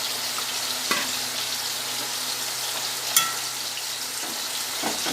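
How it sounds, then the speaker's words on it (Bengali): Small puti fish go into a boiling sour broth in a pan for a Bengali fish curry. A steady sizzling simmer runs throughout with a couple of brief clinks, close up and with no voices. "আমার টকের ঝোল ফুটে গেছে এবার আমি মাছগুলো দিয়ে দিচ্ছি"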